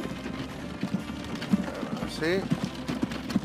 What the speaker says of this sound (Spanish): Pues aquí viene nuestro caballo, pues va a ir por la ruta que le hemos indicado